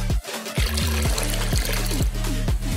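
Water poured into a portable bidet bottle, a steady close gurgling trickle with rising bubbly glugs filling the container, continuous and fairly loud throughout.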